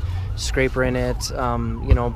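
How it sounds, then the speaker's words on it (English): An emergency vehicle siren wails and sweeps in pitch from outside a 2016 Toyota RAV4 XLE Hybrid, mixed in with someone talking close by who keeps speaking over it. "Sorry for the sirens that you're about to hear."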